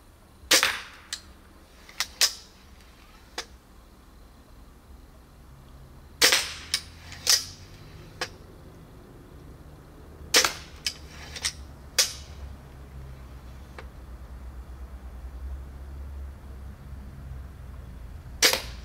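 Broadhead arrows, including an expanding broadhead, are shot into a target, giving a series of sharp, loud cracking impacts at irregular intervals over a quiet background, with no talking.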